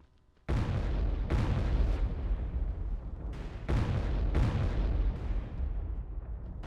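Dynamite explosions in the Call of Juarez video game, five heavy booms going off one after another, each loud and close with a rumbling tail, no talk over them.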